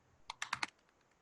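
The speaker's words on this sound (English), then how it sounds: "this is nervous typing" Nervous typing on a computer keyboard: a quick, uneven burst of four close, crisp keystrokes, followed by a few faint taps in a quiet room.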